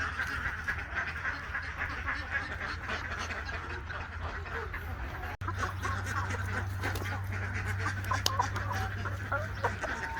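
Ducks quack steadily with chickens clucking among them in a farmyard where the hens have moved in with the ducks, a busy mixed poultry chorus that stays fairly close and continuous throughout.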